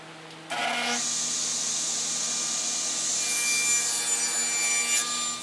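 A wooden board cut to length for a storage cubby with a power saw: the motor spins up, then a steady loud whine runs as the blade passes through the wood, rising briefly before winding down.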